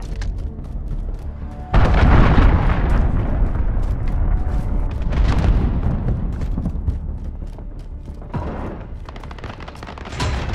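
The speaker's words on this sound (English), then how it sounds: "Enemy cruise missile incoming. Take cover." An enemy cruise missile explodes in Call of Duty: Modern Warfare (2019), bursting in a loud boom followed by rumbling blasts and crackling gunfire that fade over several seconds.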